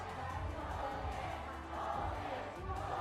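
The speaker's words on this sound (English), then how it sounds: "And the crowd chanting, Rookie, your spring split MVP, falling here" Arena crowd at an LPL Spring Split semifinal esports match between Royal Never Give Up and Invictus Gaming, a steady, dense roar of massed voices chanting and cheering throughout with no break.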